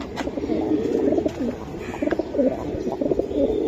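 A male and female pair of silver Giribaj pigeons coo close by, their throaty rolling calls repeating in short bursts over a steady murmur of other birds.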